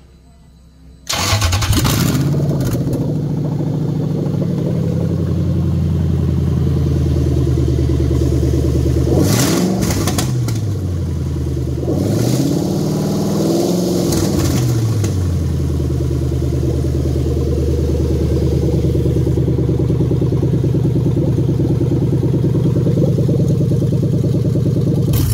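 A Toyota 1UZ VVT-i V8 engine, manually swapped, cranks and catches, then settles into a steady idle. Two quick revs rise and fall partway through before it drops back to a smooth, loud, close idle.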